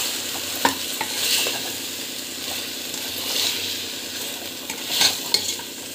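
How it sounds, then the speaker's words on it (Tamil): Food sizzles steadily in a pan while a utensil scrapes and stirs it, with occasional clinks, close by. "இதுவும் போட்டு நல்லா வந்து கலக்கி விட்டு நல்லா வதங்கட்டும்."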